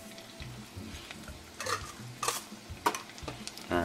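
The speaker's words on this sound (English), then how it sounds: "Let's go ahead and stir this up." A spoon stirs oyster stew with parsley, paprika and pepper in a pot, giving several scraping, clinking strokes over a low simmer, loudest near the end.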